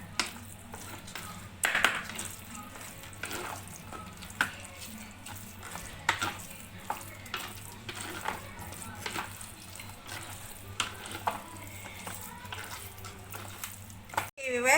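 Curd rice is stirred in a pot, giving faint, irregular wet scraping and clinks across a long stretch with a low hum underneath and occasional sharper knocks.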